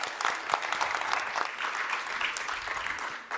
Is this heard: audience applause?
yes